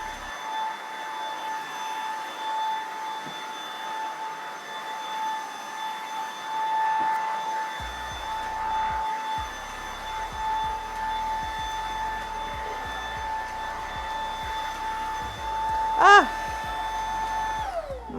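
A Moosoo M 300W cordless vacuum cleaner hums with a steady high whine, close and unbroken, while low bumps and scrapes come from it being pushed back and forth across the floor.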